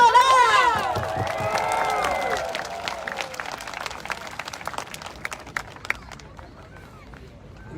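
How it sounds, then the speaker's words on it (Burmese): Audience clapping at a Melbourne protest against the Myanmar military coup, welcoming a guest speaker; scattered, crisp claps build after a voice at the start and continue steadily at moderate volume before thinning out. "လက်ခုပ်တီးပြီးတော့ကြိုဆိုလိုက်"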